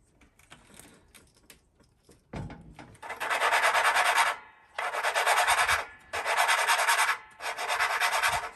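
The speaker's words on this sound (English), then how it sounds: "Let me just lap it quick." Engine valve lapped by hand with valve lapping compound, four close, loud gritty rasping bursts, each about a second long, separated by short pauses after a few quiet clicks.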